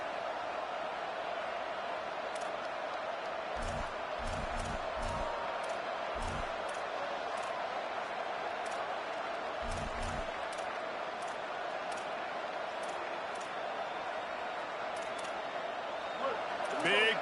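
Stadium crowd at a Clemson vs South Carolina college football video game, a steady roar with scattered sharp thumps and clicks, heard throughout under ongoing commentary.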